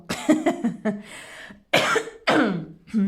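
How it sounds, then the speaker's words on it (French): Several sharp coughs in quick bursts, close and fairly loud, separated by brief pauses, with no talking. "Chaque fois qu'on approche 10 heures, je tousse"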